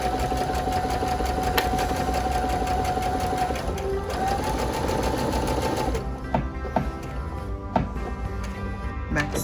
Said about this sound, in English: Remember to back stitch a couple of stitches and then continue.